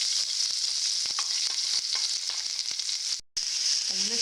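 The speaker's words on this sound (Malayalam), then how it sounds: "കുറച്ച് കരിവേപ്പില ഇട്ടെടുക്കാം. പൊടിച്ചെടുത്ത മുളകെല്ലാം കൂടെ ഒന്ന് അതിലേക്കിടാം." Curry leaves and ground chilli fry in hot oil for chicken chammanthi, a loud steady close sizzle with occasional stirring scrapes and a brief dropout near the end.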